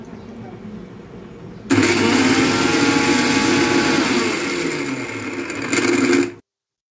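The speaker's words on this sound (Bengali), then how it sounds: "বন্ধ করে করে চালাতে হবে। একবারে বেশিক্ষণ চালানো ঠিক না, তাহলে ব্লেন্ডার নষ্ট হয়ে যাওয়ার সম্ভাবনা থাকতে পারে।" A kitchen blender switches on abruptly and runs with a loud, steady motor whir for about four and a half seconds, with a brief surge near the end before it cuts off to silence.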